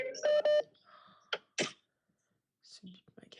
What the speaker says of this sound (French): ce bip m'agace.